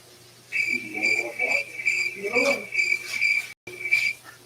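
Steady, high-pitched cricket chirping repeats in a continuous rhythm, with a brief dropout near the end and faint low background sounds beneath.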